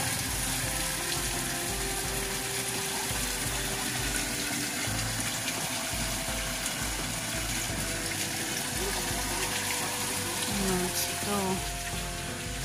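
River water rushes steadily through a canal beside rice paddies, a continuous gushing wash with faint voices mixed in beneath it.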